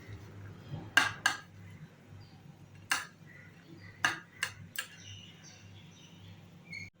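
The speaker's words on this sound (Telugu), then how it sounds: "వీటన్నింటిని ఇలా స్పూన్తో కలుపుకోండి" A spoon stirs chopped cucumber, coriander and black salt together in a bowl, giving a handful of sharp, irregular clinks and taps against a quiet background, with no voices.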